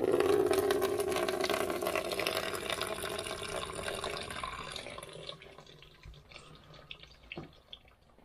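Water drains and trickles from an Adey MagnaClean central heating filter, a steady loud gush that fades after about five seconds into sparse drips and small splashes, with no one talking.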